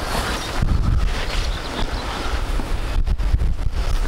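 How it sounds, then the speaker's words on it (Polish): Strong outdoor wind buffets the microphone in loud, rumbling gusts that rise and fall without pause, with no voices over it. "Ale wieje."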